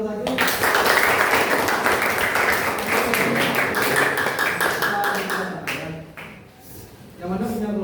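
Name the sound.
classroom applause for group one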